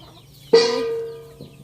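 A single loud, close chicken cluck, a drawn-out tonal call that fades, with a faint second note just after.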